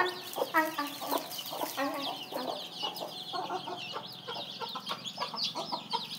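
Chickens cluck and chatter continuously close by, with hens and chicks calling over one another in a busy, overlapping flock.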